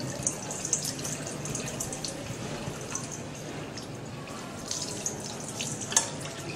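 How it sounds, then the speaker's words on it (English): Cold water pours steadily into cups during a coffee cupping session, a continuous splashing trickle with scattered bright drips, close and alone throughout. "Just a bit of cold water there for the effect if you want."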